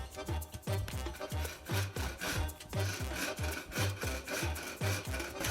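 Steady rhythmic strokes of a hand tool cutting into a chunk of wood while a wooden spoon is hand carved, repeating roughly twice per second, close and fairly loud with no talk.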